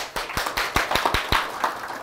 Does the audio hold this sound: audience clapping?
yes